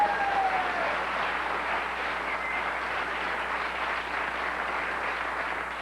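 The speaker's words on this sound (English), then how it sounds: "You may certainly applaud if you like." A late-night television studio audience applauds in a steady, even wash of clapping that starts loud and settles slightly, continuing throughout with no talking on top.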